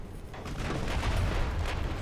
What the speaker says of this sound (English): Junyo getting some secondary shots there on the destroyer